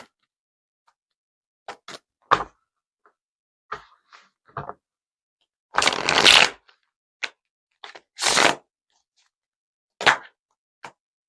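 Tarot cards shuffled by hand in scattered short riffles and taps, with two longer bursts of riffling, close and crisp against near silence.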